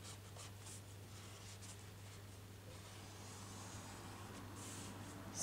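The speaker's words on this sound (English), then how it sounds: "I'm just going to draw the shape" Chalk or a marker drawing a pocket outline onto dress fabric for a child's dress, faint scratchy strokes in short bursts over a low steady hum, close and quiet, with no talking.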